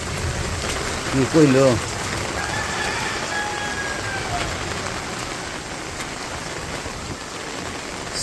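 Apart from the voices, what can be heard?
heavy rain falling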